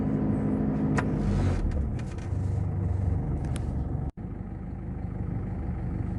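Isuzu D-Max 4x4 pickup crawling off-road in first gear with four-wheel drive engaged, its engine holding a steady low idle-like drone, close and continuous, with a brief knock partway through.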